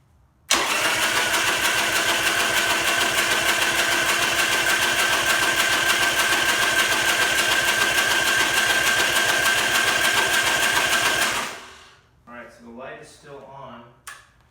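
A Buell XB12R motorcycle engine cranking steadily and loudly for about eleven seconds, a constant whirring drone that then cuts off, followed by brief clatter and faint movement sounds.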